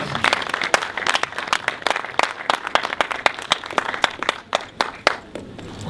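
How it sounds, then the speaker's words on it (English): Warm applause from an audience welcoming a guest speaker onto the stage at a talk event, dense steady clapping with sharp individual claps standing out, continuous through the whole stretch with no voices. "a round of applause"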